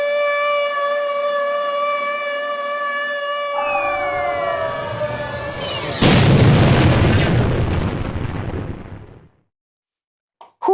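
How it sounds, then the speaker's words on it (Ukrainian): A loud synthetic Minecraft explosion bursts in after a rising siren-like tone as a rocket launches, rumbling and crackling for a few seconds before cutting to silence. "вибух, друзі, я бачив взрив"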